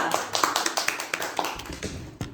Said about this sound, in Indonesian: tepuk tangan dulu buat Winanda dan kita semua